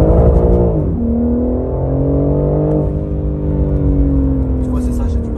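A BMW M4 Competition engine holds a high, sustained tone, its pitch sliding down sharply once, then settling and climbing slowly, loud and close with a steady throaty undertone.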